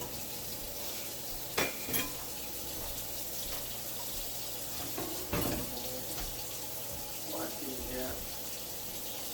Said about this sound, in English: Wash up my utensils.